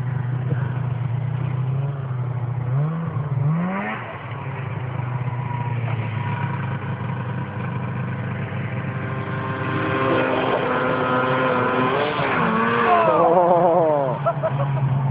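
A Polaris snowmobile skims across open water at Whitecourt, Alberta, its engine droning steadily and then revving higher in rising and falling sweeps, heard from a distance with faint talk mixed in.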